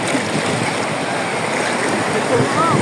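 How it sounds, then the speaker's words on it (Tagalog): Big ocean waves roll in one after another as a dense, continuous roar of surf and rushing water, heard up close with wind noise and a voice faintly beneath. "Sunod-sunod ang alon!"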